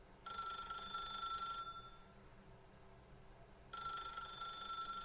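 Telephone ringing in The Stanley Parable, a bright electronic bell trilling in two bursts with a quiet gap between, steady and close with no voices.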